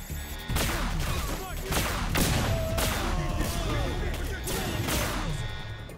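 Spike shot secondary weapon firing in the video game Singularity, a rapid series of loud sharp shots and impacts over several seconds, with a player's voice reacting around them.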